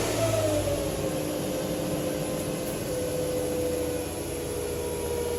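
A 2008 Nissan Xterra engine turns over and settles into a steady idle, close and continuous, with a faint whining tone fading in the first seconds.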